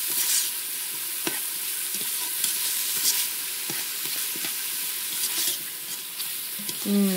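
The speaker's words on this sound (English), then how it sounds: "We're just going to stir this. Kind of saute this." Vegetables for pulled beef barbecue sandwiches stirred and sauteed in a hot pan, a steady close sizzle with scraping stir strokes throughout and a louder clatter near the end, no talking.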